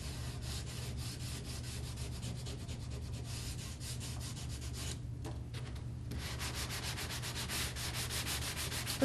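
Sanding block rubbed back and forth over stained wood, a steady close scratchy rasping that runs throughout with a brief quieter pause midway, over a constant low hum.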